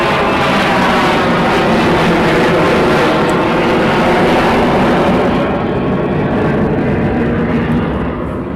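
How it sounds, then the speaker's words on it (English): F-35 fighter jets flying the circuit at RAF Lakenheath produce a loud, steady broadband jet roar that fills the clip and eases slightly toward the end. "Followed by another two F-35, 4 F-35s in the circuit"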